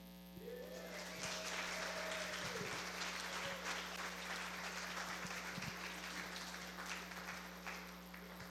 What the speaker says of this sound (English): that kind of round of applause